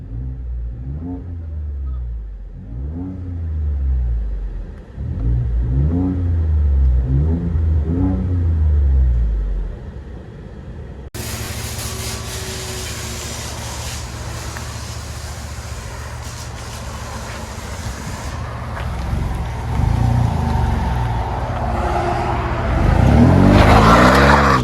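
A 2017 Ford F-150 EcoBoost V6 with a Dynomax Race Bullet exhaust revs several times in rising, falling sweeps, then a louder, rougher stretch of engine and road rumble follows, building near the end.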